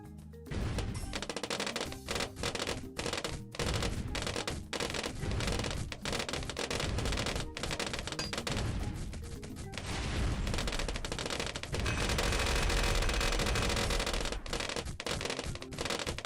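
Mortar tower firing in a Bloons tower defence game, dense repeated thumping blasts layered over busy game sounds and music, loud and continuous throughout.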